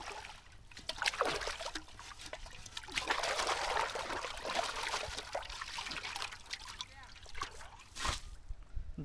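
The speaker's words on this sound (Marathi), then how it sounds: "ते पाणी आपण बाजूला टाकूया." Water poured out and splashed aside after washing, an uneven trickling and splashing that swells and fades with a louder gush near the end, fairly faint outdoors.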